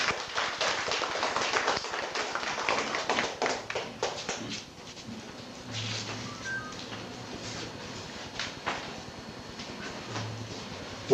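An audience at a spiritism talk in El Salvador claps for the engineer Marvin Cerón. The applause is a dense patter of hand claps that is loud at first, then thins to scattered, fainter claps with no talking.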